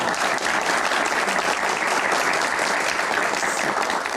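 Studio audience at an Indonesian Metro TV Q&A talk show applauding the panelists, a dense, loud, steady clapping that fills the room for several seconds with no voices over it.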